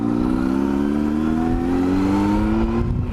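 A motorcycle engine pulls away in first gear, its steady drone climbing slowly in pitch for several seconds, loud and continuous with no talk.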